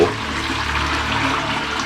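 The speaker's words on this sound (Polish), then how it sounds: "Ciekawe czy się spuszcza." A toilet flushes in an abandoned Russian facility in Poland, a loud steady rush of water pouring for the full stretch, close by and alone with no talking.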